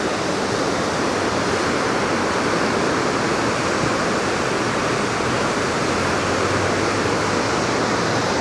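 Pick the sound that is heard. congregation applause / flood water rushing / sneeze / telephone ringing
flood water rushing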